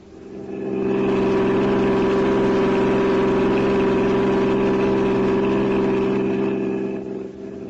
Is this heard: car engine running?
yes